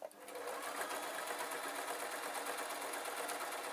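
Sewing machine stitching a single layer of outer fabric for a muffler, running as a steady, close, fast mechanical whir from the start and continuing without pause.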